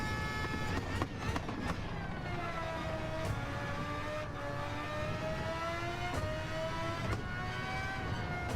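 Race car engine at Spa, held at high revs and shifting through gears, its rising and falling whine steady and loud with brief breaks at each change and no voices.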